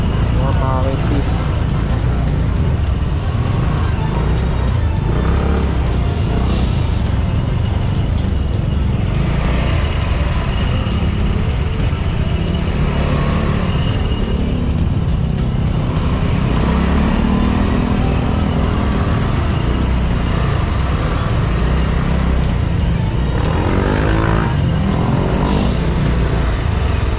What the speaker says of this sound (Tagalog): sobrang traffic dito